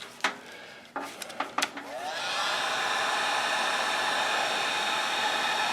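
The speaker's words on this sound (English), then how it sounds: "I take a heat gun" A heat gun blows on the glue backing of a Troy-Bilt Pony riding mower's drive belt area; a few handling knocks come first, then a steady loud airy hiss switches on and holds alone, close by.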